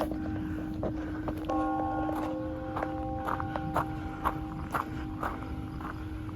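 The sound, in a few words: church bell ringing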